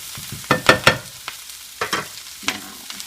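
Brussels sprouts brown in a hot pan, giving a few distinct crackling bursts and spatters over a low, steady sizzle, close and moderately loud, with no talking.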